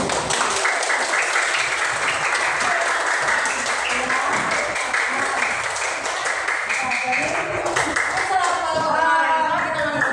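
Schoolchildren in an elementary classroom clap in a steady patterned rhythm, a dense burst of hand claps throughout, while voices chant and speak over the clapping.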